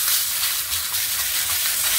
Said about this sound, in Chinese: 就煎下只雞，爆下只雞，皮落面。